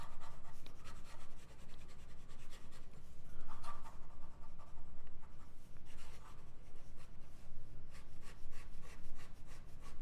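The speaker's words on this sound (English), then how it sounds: "I'll try fast writing." A Signum De Divina Proportione Doric fountain pen scratches quickly across paper in a continuous run of fast writing strokes, close and fairly quiet.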